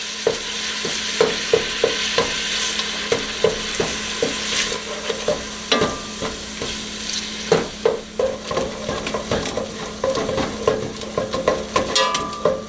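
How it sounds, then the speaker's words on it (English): Ground turkey sizzles loudly as it browns in a pot of chili on the stove, with repeated scrapes and pokes from tongs pushing the meat around. "In goes the turkey. I just use the tongs to sort of smush it around."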